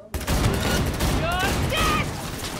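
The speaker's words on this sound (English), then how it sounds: "Heard shots." Rapid bursts of gunfire in the video game Cyberpunk 2077, crackling volleys packed closely together with a few ringing mechanical tones, moderately loud and with a voice partly mixed in.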